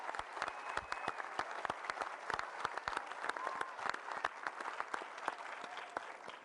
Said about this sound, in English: Let's do another round of applause for everyone.